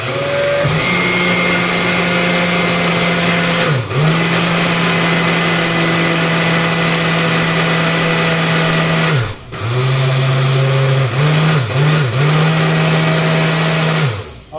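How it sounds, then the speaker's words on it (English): A faulty blender making a berry smoothie whirs loudly and continuously, its motor pitch dipping briefly a few times as the blades catch before spinning back up. "I got a little bit of an issue with the blender this morning"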